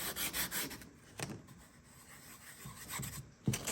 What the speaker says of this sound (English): Sand it down real light.